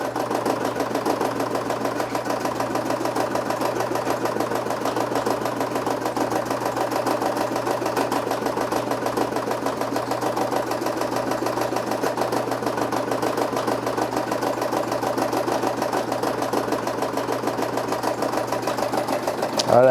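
A sewing machine runs steadily, stitching a custom patch with black thread, a continuous close mechanical whir with a fine rapid rhythm that holds for the whole stretch with no pauses.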